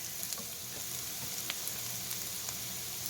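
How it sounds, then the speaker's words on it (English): Onions and jalapenos brown in a hot pan, sending up a constant, close, loud sizzle with faint crackles and occasional stirring sounds and no voices. "my onions and jalapenos have been cooking, and I let them brown just a little bit"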